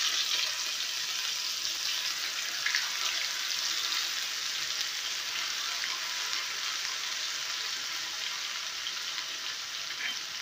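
Garlic, green chili and black cumin paste hitting hot oil gives a loud, steady, bright crackling sizzle that holds evenly throughout, with occasional sharper pops and no voices.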